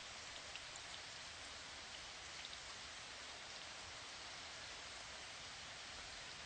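A calming rainstorm, with dense, even rainfall hissing steadily and unbroken throughout, no voices and no distinct drops standing out.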